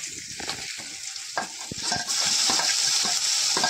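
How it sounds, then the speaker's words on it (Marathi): Finely chopped onion frying in hot oil with garlic for a Malvani mackerel curry, a bright continuous sizzle that swells louder partway through, broken by scraping stirs of a spatula against the pan. "कांदा असा छान बारीक कापला आहे आणि तो आता सुद्धा तेलावर छान भाजून घेऊया"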